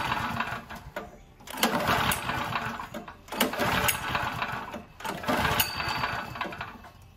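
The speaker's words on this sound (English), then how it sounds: "Go ahead and try and pull start a couple times." A small generator engine is yanked by its pull cord over and over, each pull giving a loud raspy burst of cranking that never catches and keeps running.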